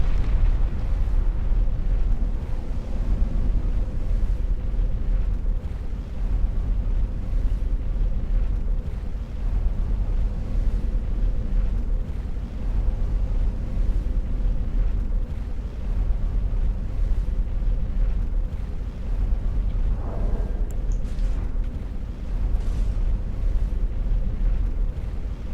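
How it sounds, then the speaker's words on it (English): An elevator rises in the Elden Ring game, a deep continuous rumbling drone with windy low-frequency roar that holds steady for the whole ride, with a faint metallic accent near the end. "So, elevator up."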